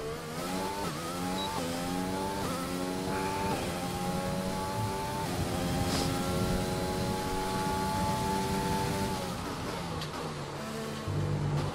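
A Formula 1 car in F1 2020 drives around the Bahrain circuit during practice, its engine loud and close, revving up through a series of rising gear changes with steady tire and road noise.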